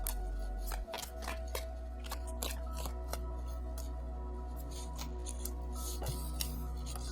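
Tarot cards being drawn and handled during a reading, a steady run of soft papery clicks and slides, close-up over a constant low hum, with no speech.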